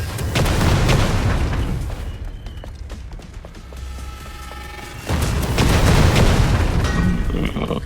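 Turret fire and explosions in the action video game Stellar Blade, heavy booming blasts and rumbling bursts that fade into a quieter stretch before another loud barrage erupts.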